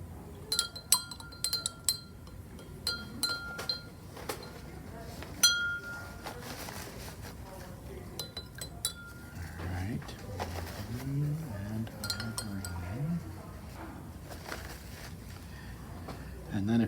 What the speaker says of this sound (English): Now I will stir it.